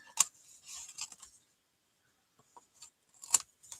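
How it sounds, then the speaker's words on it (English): Scissors cutting card stock for a Stampin' Up! Easter basket pop-up card: a few crisp, close snips in a quick cluster, a pause of near silence, then another sharp snip. "And then I'm going to turn it over and cut from the back."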